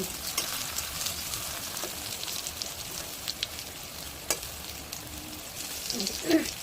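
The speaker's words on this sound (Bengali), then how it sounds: "আমি কলাগুলো সুন্দর করে ভাজা দিয়েছি" Raw plantain pieces frying in oil in a pan over a lowered flame, giving a steady dense crackle and bubbling close by, with a few brief louder pops and scrapes near the end and no talk.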